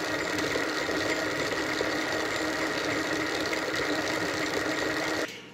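A 7.5-inch gauge, 2.5-inch scale electric locomotive converted from gas runs on a test run, giving a steady, loud mechanical whir that holds evenly for several seconds and then cuts off.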